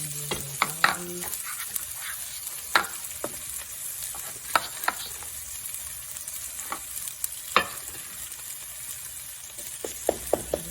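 Onion, ginger and garlic fry gently in a pan for a green bean dish, a soft steady sizzle broken by sharp clinks of bangles and spatula taps, close and fairly quiet.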